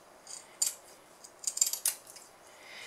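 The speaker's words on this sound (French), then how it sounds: "je prends mes ciseaux cranteurs et j'enlève le surplus de tissu" Pinking shears trimming excess fabric from sewn pieces, giving several short, crisp metallic snips in quick clusters, faint and close, with no talk.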